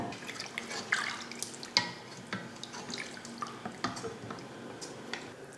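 Water goes into a cooking pot for rice, heard as scattered splashes and drips, fairly close and moderately quiet, with no talk.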